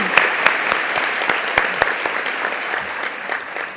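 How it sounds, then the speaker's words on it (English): Applause rises at an inclusion awards luncheon, a moderate crowd clapping with some sharp individual claps standing out near the start, the level easing gradually toward the end, no talking. "let's give them an applause"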